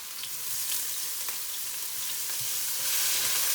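Spring onions, ginger and garlic sizzle in hot oil in a wok as they are stirred, a loud continuous frying hiss with faint scraping, no voices.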